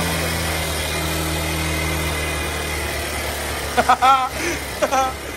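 A 12-year-old car's engine idles in neutral with a steady, continuous low hum throughout, and a voice speaks briefly over it near the end.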